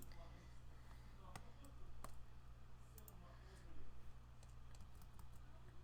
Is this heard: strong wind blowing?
no